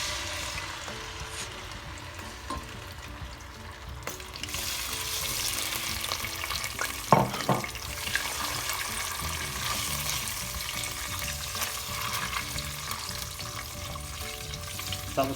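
Ginger and garlic paste sizzles in a small pot of hot oil for Indian restaurant-style base gravy, a dense, steady hiss that swells after it goes in, with a sharp stirring scrape in the middle.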